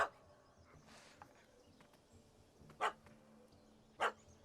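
A dog in The Witcher 3 video game barks at a cat up a tree, giving two sharp, loud barks a second apart over quiet outdoor game ambience.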